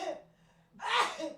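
A person sneezes once, a short sharp burst after a quick breath in, close and fairly loud.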